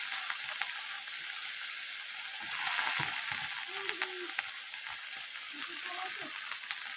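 Onion, potato and green chilli frying in a pan, a continuous close hiss of hot oil with scattered faint stirring clicks and scrapes throughout.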